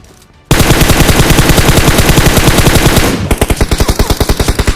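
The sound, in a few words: gunfire in a video game shootout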